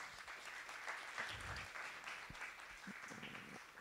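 An audience at a TEDx event applauds the organisers, a faint but steady wash of many hands clapping from across the hall, with a few brief voices underneath.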